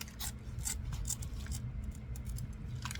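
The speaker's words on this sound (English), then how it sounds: "So I am going to cut this open." Scissors snip through packaging in a few quick, close cuts against a steady low background hum, with no one talking.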